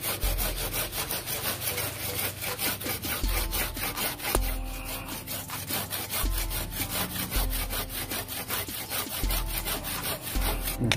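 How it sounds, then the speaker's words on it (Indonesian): Steady back-and-forth strokes of a hand saw biting through a Thai Manalagi mango tree branch during air layering, rhythmic and close, with short pauses between bursts of cutting. "Cangkokan kita gergaji. Kita gergaji di sini."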